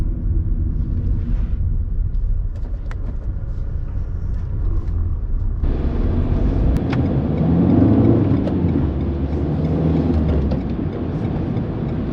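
Renault Megane 4 Estate 1.5 dCi 115 diesel driven briskly through a series of bends, steady engine and road rumble from inside the cabin, growing louder and rougher partway through as the car loads up.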